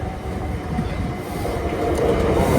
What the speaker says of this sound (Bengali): ট্রেন গেল একদম চোখের সামনে দিয়ে যায়, মানে একদম এত কাছে থেকে